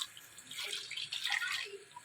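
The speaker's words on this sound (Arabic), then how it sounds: "هننزل عليها بميه مغليه" Boiling water is poured over oxtail in a pan, giving a soft, close splashing and sizzling hiss that swells and fades over about two seconds with no talking.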